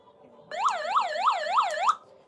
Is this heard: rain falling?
no